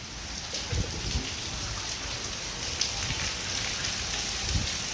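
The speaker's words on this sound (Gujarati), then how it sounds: "એટલો બધો વરસાદ આવ્યો છે અહીં સુધી પાણી આવી ગયું અમારા ઘરમાં" Heavy rain pours steadily in a dense, unbroken roar, flooding water into a house, with occasional louder drops and splashes.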